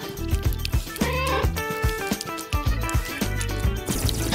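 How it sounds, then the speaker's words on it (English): Cat meowing in repeated short calls over a busy background of music and other sounds. "I think Kitty's thirsty too."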